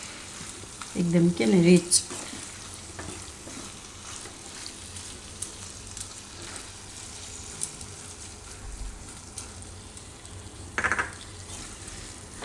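Cream being stirred into soya paneer bhurji as it fries in a pan: a steady close sizzle with spoon scrapes and a few brief clinks, and someone speaking briefly over it.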